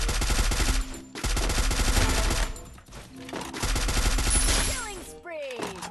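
Rapid automatic gunfire in the battle royale game Free Fire, loud sustained bursts in several long strings with brief pauses, someone talking over it.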